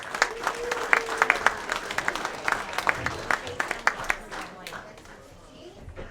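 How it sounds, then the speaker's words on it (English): Banquet audience at a racing awards night applauding a champion, dense clapping with sharp individual claps and voices mixed in, fading out toward the end. "if we could get a big round of applause for your Bomber B champion, Zachary Curtis."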